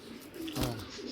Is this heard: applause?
no